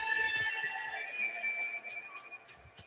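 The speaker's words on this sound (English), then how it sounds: "And now we got a whistle again." A referee's whistle at a boys' high school ice hockey game sounds one long, steady shrill tone that fades slowly, with faint arena noise underneath.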